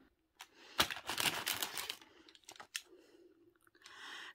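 Crinkly rustling and tearing of a small plastic packet of Monge pet food being opened up close, in short bursts followed by a softer crackle.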